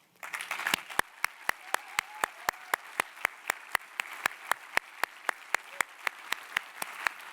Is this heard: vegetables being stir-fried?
no